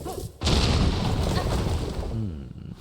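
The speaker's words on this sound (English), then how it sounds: "let's explode this" In Silksong, a single big explosion erupts close and loud, then rumbles on and slowly fades over a couple of seconds.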